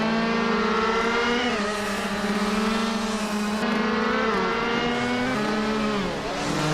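Shifter kart engines scream in a race, including a 2012 shifter kart, with several high-revving engine tones overlapping and shifting pitch as the karts accelerate and change gear, loud and continuous throughout.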